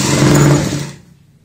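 A sewing machine running a short, loud, close burst of stitching along the lace on a kurti sleeve, then quickly winding down to silence.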